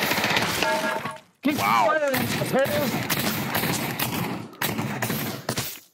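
Gunfire in a PC first-person shooter game: dense bursts of rapid shots and sharp cracks with brief gaps, loud and close, mixed with game effects while players talk and react.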